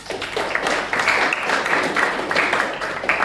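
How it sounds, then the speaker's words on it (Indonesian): Students applaud together in a classroom, a steady wash of many hands clapping at close range throughout, with no voices standing out. "Kasih aplaus sekali lagi anak-anak"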